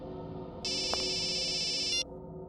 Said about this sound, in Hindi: बॉस, आपका फोन है।